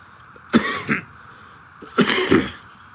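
Two short bouts of coughing sound close up, each a harsh pair of throaty bursts separated by a second or so of quiet.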